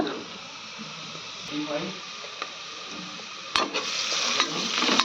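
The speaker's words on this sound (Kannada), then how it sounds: "ಉಳ್ಳಾಗಡ್ಡಿ ಎಲ್ಲ ಚಂದ ಫ್ರೈ ಆಗ್ಯಾವ" Onions frying with spices in a pan give a steady, close sizzle that swells when the mixture is stirred, with brief scraping strokes and a faint voice in the background.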